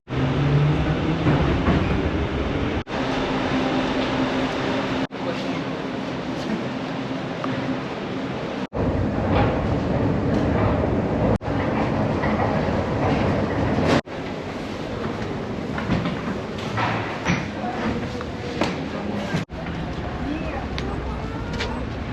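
A metro train ride on the short blue line in Nizhny Novgorod, Russia: a continuous low rumble and rattle of the carriage, with wheel clatter and several sharp breaks, and voices talking over the noise.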